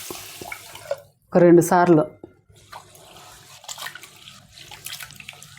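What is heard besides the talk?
washing rice and moong dal under running water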